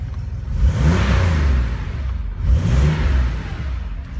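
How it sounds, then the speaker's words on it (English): A car engine on a cold start takes two throttle blips, each revving up sharply and falling back to a steady idle, heard up close with no talking. "I'm gonna blip the throttle."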